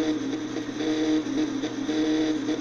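A Satsuma engine in My Summer Car bounces off its rev limiter on a dyno with a race carburetor, a steady high droning whine that pulses slightly as the ignition cuts in and out.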